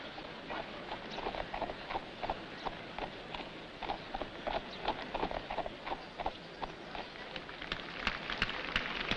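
Horses' hooves at the horse show at Windsor, a steady scatter of clip-clop hoofbeats over a continuous outdoor hum, moderately distant with no talk.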